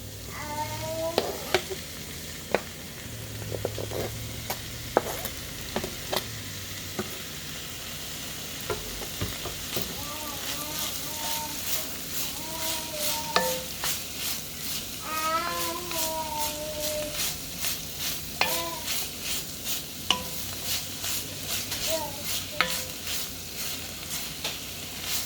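Ham sizzles in a pot with garlic while being stirred, a continuous frying hiss with intermittent scraping and clattering stirs, and some whining, meow-like tones mixed in.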